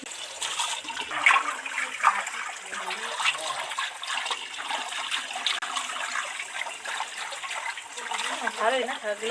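Kulekhara leafy greens are washed in plenty of water, making continuous splashing and trickling with bursts of sloshing, close by, while a voice is faintly present.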